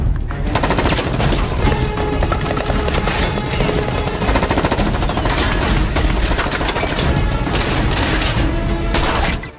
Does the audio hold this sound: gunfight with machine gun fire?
yes